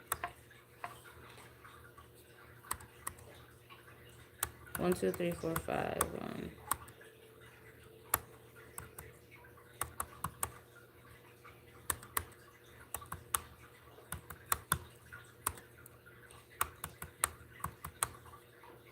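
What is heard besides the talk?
typing on a computer keyboard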